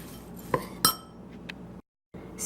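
A spoon clinks against a bowl of pre-sliced almonds while stirring, two distinct close taps then a few fainter clicks, followed by a brief silence.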